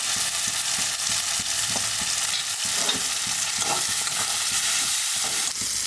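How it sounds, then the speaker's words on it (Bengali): Turmeric, Kashmiri chilli powder and spices fry in a pan for a potato curry with salt and sugar, a steady close sizzle broken by repeated scraping stir strokes throughout, with no talk. "এবারে নাড়াচাড়া করছি"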